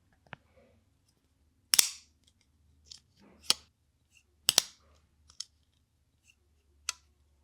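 Sharp metallic clicks in a sparse, irregular series, several crisp snaps spaced apart in an otherwise quiet room, as a Sharp By Design Derecho folding knife blade flicks open and locks shut.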